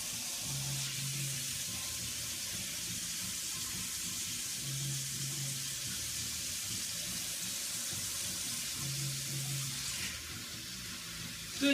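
Tap water runs steadily into a container of packaged chicken thighs set to defrost, a continuous hiss of flowing water with faint low hums, no voices.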